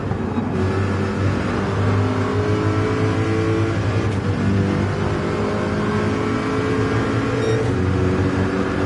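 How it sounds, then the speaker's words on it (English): Racing car engine in Gran Turismo 7 during a World Series manufacturers race: a loud, steady engine drone throughout, with a faint brief click or two. No voices. "The sound of the engine is victory itself"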